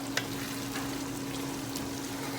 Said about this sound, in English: I'm going to saute the tomatoes just a little bit